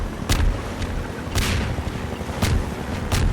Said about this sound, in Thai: ชอบทิ้งระเบิดจังเลยพวกเฮลิคอปเตอร์